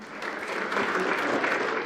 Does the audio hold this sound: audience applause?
yes